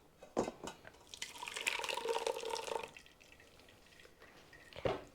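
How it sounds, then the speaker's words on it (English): Wet, squelching tomato pulp being pressed through a kitchen sieve for passata, with soft drips and a longer sloshing push in the middle, fairly faint and close with no talking. "I work small amounts at a time and just push it through the sieve"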